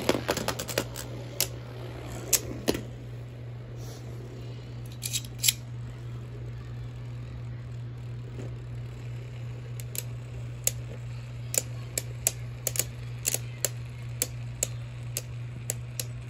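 Beyblade spinning tops battle in a stadium, giving sharp, irregular metallic clicks and ticks over a steady low whirring hum, close by with no voices.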